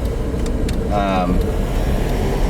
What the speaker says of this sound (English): You will hear street noise